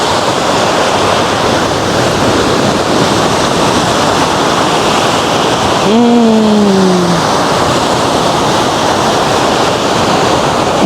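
Sea waves washing onto the sandy shore at Long Beach, Kuşadası, a loud, continuous roar of surf with wind on the microphone and a brief bird-like call midway.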